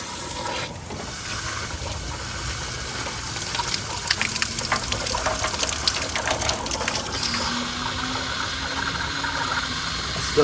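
Water gushes steadily from a hose and fitting while flushing the cooling system of a 1988 Ford Bronco that sat unused for 24 years, a continuous close rushing stream with faint mechanical clicks and no talk.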